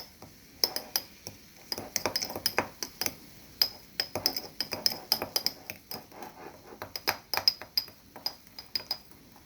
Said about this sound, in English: And we go ahead and stir while this stuff is brewing.